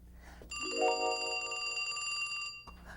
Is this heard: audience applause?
no